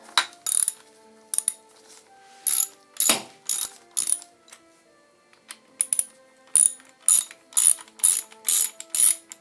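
A ratchet removes starter motor bolts from a Honda VF750F engine, with loud, close bursts of rapid clicking in repeated short strokes separated by brief pauses and occasional metallic clinks.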